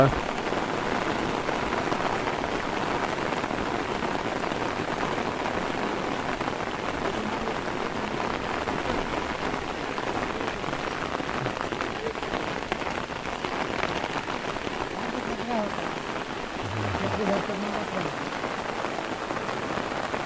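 Heavy first monsoon rain pours down in a Konkan village beside a primary school, a dense, even hiss of drops on surfaces that holds steady throughout, with a voice faintly present beneath it.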